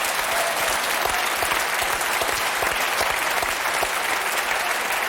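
Studio audience at a French television music show applauds warmly and steadily, a dense continuous wash of clapping at even loudness throughout, with no voices rising above it.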